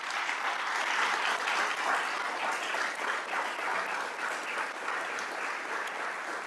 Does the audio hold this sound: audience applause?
yes